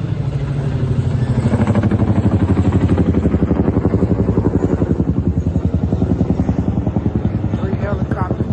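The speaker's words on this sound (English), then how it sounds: "3 helicopters that flew over here." Helicopters passing overhead, a loud, steady rhythmic rotor thumping that stays close and prominent throughout, fading slightly toward the end.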